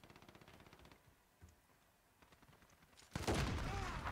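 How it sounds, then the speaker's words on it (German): A suppressed weapon in Call of Duty: Modern Warfare fires rapid, soft, muffled automatic shots in quiet bursts. A much louder, harsh burst of noise breaks in near the end. "Dieser Schalldämpfer erzeugt einfach so einen extrem nicen Sound."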